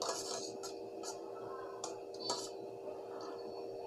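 A spoon clinks and scrapes against a bowl while seaweed agar dessert is stirred, a few light, irregular metallic taps and clicks, quiet and close, with no voices.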